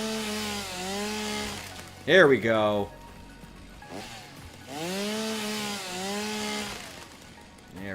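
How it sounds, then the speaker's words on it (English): A chainsaw cuts through trees in the video game Satisfactory, a buzzing engine whine rising and falling in steady bursts at close range, with a voice talking briefly over it. "Chainsaw time!"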